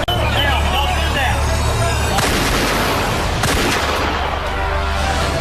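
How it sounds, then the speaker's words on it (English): Police officers open fire on an armed elderly woman at a standoff scene, a dense, loud burst of gunfire crackling across the whole clip with sharp jolts and a rumbling roar underneath. "The officers at the scene had no choice whatsoever but to fire."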